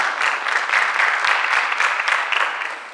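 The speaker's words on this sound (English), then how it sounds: "You can clap, it's fine." Audience applause at a high school poetry recitation finals, steady dense clapping from a crowd in a hall lasting the whole stretch, fairly loud with no talking over it.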